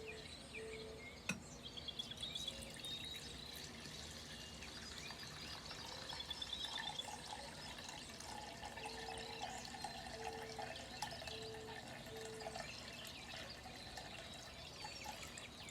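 Liquid is poured into a container while making RSO/FECO oil extract: a soft, steady trickle and splashing wash that runs continuously, close and fairly quiet, with faint clinks and a low background hum and no talking.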